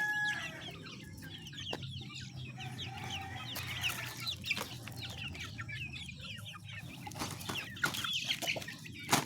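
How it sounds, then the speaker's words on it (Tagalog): A flock of pet chicks crowds in at feeding time, chirping and clucking over and over, with fuller clucks from bigger fowl and rustling and scratching underneath. Near and fairly lively, with no talking. "Magutom na ang ating alagang sisiw."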